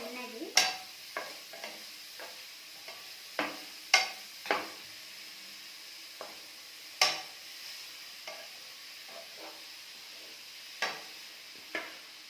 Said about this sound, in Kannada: ಇದು ಎಲ್ಲ ಎಷ್ಟು ಬರೋ ತನಕ ಚೆನ್ನಾಗಿ ಫ್ರೈ ಮಾಡಬೇಕು